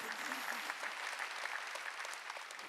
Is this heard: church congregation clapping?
yes